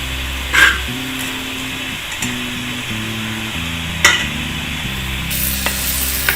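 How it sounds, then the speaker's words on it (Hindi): Boiled minced meat (qeema) sizzles steadily in a pan while a spoon stirs it, giving occasional louder scrapes and clinks over the constant frying hiss, with no talk. "इसको भूनना है हमने। बॉयल कीमा ऐड कर रहे हैं।"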